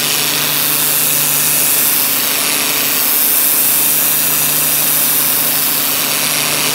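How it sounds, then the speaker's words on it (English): Pressure cleaner spraying a cypress pine table top outdoors, a loud continuous high whine and hiss with a steady motor hum, unbroken throughout and with no voices. "I've got the pressure cleaner here. I might quickly restore the top"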